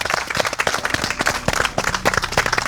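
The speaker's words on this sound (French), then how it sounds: "On peut les applaudir, bravo les amis." A small crowd claps and applauds enthusiastically, with dense, irregular hand claps sustained throughout at close range.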